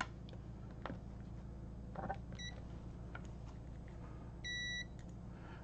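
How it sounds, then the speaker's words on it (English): A multimeter in continuity mode, used to test an LMR-400 cable with soldered PL-259 connectors, gives a couple of brief, faint electronic beeps over a low background hum, the longer one near the end. "I like to make it where it beeps, and that way you know when you have continuity."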